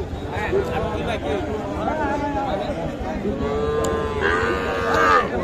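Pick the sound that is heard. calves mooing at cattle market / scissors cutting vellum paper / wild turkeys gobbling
calves mooing at cattle market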